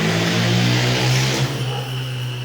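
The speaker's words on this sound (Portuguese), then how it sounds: "Barulho de moto." A motor vehicle engine, plausibly a motorcycle, drones steadily and loudly with a strong low hum, swelling slightly mid-way then easing as it passes.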